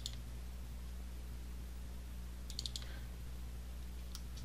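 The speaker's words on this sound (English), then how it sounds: "I can just double click relatively quickly here" A computer mouse clicks quietly during design work in CorelDRAW, a quick double click near the start and another brief cluster of clicks later over a faint steady hum.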